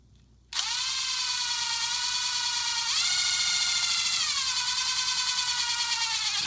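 A drill with a 7/64-inch bit bores a hole into a snapped plastic snow brush handle, a steady high whine spinning up after a brief quiet start, rising in pitch midway, then settling, loud and close with no talk.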